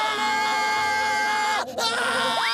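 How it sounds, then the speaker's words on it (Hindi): A chubby cartoon character from the Motu Patlu series yells loudly in a long, strained, wavering shout that breaks off briefly and then resumes, with no other sound. "इतनी तेज तो खतरे की घंटी भी नहीं बजती जितना तेज तुम चिल्ला रहे हो"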